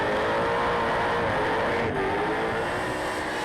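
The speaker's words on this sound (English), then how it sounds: "Let's just have a listen to his revs." A burnout car at the Summernats street machine event revs its engine hard, a loud, continuous roar that holds steady with slight throttle wavering throughout.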